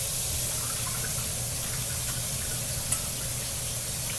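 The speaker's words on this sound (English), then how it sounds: "And now I'm finna rinse them." Pinto beans, soaked in hot water, rinsed under running water at a kitchen sink, a steady broad wash of flowing water with a low hum underneath and a faint clink near the end, no talk.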